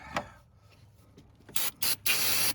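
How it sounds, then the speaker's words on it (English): Parts cleaner sprayed from an aerosol can onto a Lexus LS460 engine during a water pump job: three loud, hissing bursts close up, the last one longest, after a quieter stretch with a few small knocks. "spray it down, clean it up, and we'll install the new one"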